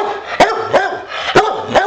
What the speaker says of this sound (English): it's not a dog show, so quit barking